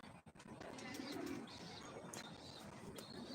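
Pigeons released from their loft coo softly and steadily at close range, with a few higher chirps mixed in over a continuous outdoor background.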